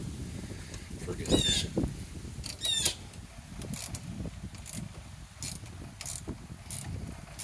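A bolt on the belly band holding an HVAC X-13 fan motor is tightened with a ratchet, giving quick metallic clicking bursts followed by a steady run of faint, evenly spaced ticks, close by.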